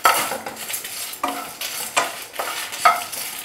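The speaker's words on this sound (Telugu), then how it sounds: "లోలో సిమ్లో పెట్టి వేయించుకోండి" Cumin and coriander seeds are roasted over low heat in a pan: close, crackly scraping of a spoon stirring through dry seeds, in short repeated strokes about every half second.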